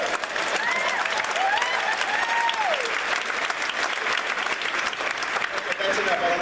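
Sustained audience applause at a comedy show, loud continuous clapping from a large crowd with a few faint whoops and cheers rising over it throughout.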